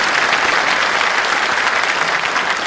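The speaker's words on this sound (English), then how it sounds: "Put your hands together for them." A large keynote audience at TechEd New Zealand 2013 claps loudly and steadily in sustained, even applause from start to finish.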